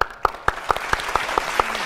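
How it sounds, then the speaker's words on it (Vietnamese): Studio audience at a Vietnamese dating game show claps in a steady unison rhythm, about eight sharp, evenly spaced claps, close and fairly loud with no talk. "chúng ta chỉ còn thiếu đúng một tràng vỗ tay để chúc cho những ước nguyện của Phương Dung thành hiện thực"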